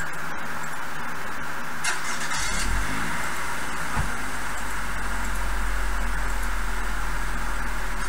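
A car engine in a video game rises out of a hissy background, a low rumble that swells and holds steady as it draws near, with no voices.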